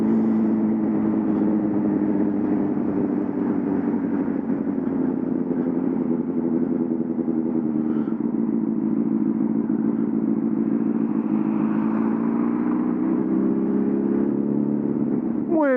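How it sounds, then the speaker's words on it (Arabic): A motorcycle engine with a newly swapped exhaust runs steadily near the listener, holding a smooth, continuous low drone with a slight swell in pitch toward the end. "دابا الصوت كتسمع صوت الموتور الحقيقي ديالو"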